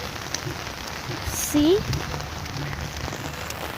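Heavy rain falls outdoors in a steady, close wash of patter on surfaces, continuing throughout with a brief spoken remark over it.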